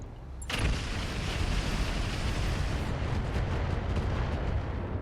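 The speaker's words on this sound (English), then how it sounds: "our Blackjack is going to step forward over here towards ideal range and fire on that Narc Hunter" Mech weapons fire in the battle game RogueTech as a Blackjack mech shoots at a Narc Hunter: a sharp opening blast, then a sustained roar of heavy gunfire and impacts that stays loud to the end.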